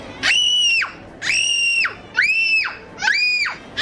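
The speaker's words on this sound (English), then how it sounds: "Just stop screaming." A child screams in four long, shrill, repeated wails with brief gaps between them, loud and close, in a tantrum over wanting more Cabbage Patch Kid dolls.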